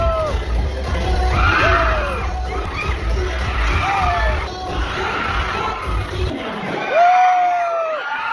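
A crowd of fans screams and cheers continuously at an SB19 attraction, loud and close, with overlapping high shrieks and whoops swelling and dipping, ending in a sharp rising scream.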